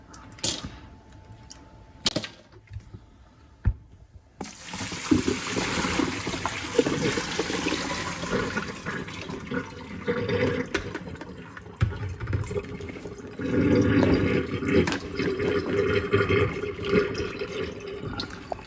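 Ice water pours and splashes off blanched green beans as they drain in a kitchen, a steady running, trickling wash with occasional clinks of ice, alone and fairly close.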